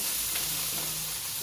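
Chopped onion hits a hot pan for a vegetable lumpia filling and sizzles in a steady, close, even hiss that holds without a break, with no voices.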